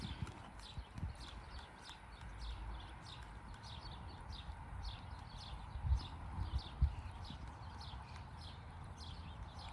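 A horse trots on a circle in a riding arena, its steady, rhythmic clip-clop of hoofbeats continuing at moderate distance over a soft background, with a few slightly louder hoof strikes near the end.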